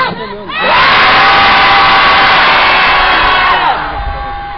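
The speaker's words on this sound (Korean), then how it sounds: "평화의 함성 다시 시작!" A rally crowd at the weekly Wednesday demonstration in Korea for comfort women victims lets out a loud, sustained unison shout for peace, rising quickly, holding for about three seconds, then tapering off.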